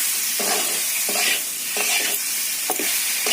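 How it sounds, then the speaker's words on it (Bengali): Spice paste and fried potatoes being stirred in a pan, with a steady sizzle and about four rhythmic scraping strokes close up, no talking. "এবার মশলাটাকে একটু কষিয়ে নেব সফিয়া আলু ভাজাটা দিয়ে দিই দিয়ে একটু সময় কষিয়ে নেবো মশলা দিয়ে"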